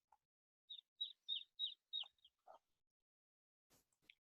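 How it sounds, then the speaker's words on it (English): A bird chirps a quick series of five or six bright notes close by, then falls quiet, with a couple of faint chirps near the end. "And I hear birds."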